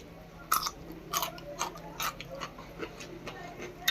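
Homemade pickled cucumber is bitten and chewed close up, giving several crisp, crunchy snaps spaced about half a second apart over a quiet background, fairly soft overall.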